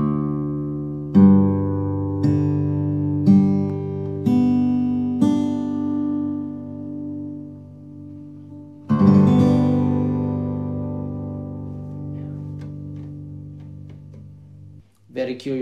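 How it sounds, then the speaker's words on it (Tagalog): Alama guitar in open G tuning, set up for slide blues: strummed and plucked open strings ring out in a series of close, sustained attacks, one larger strum near the middle decaying slowly, with no talking over it. "Ito ang tunog ng open G."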